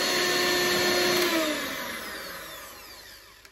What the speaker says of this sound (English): And now I am using my handheld whisk.